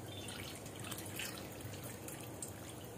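Water is poured over the lid of a covered cooking pot while dhondas cooks, giving a faint, steady trickle and drip that runs alone for about three seconds in a quiet room.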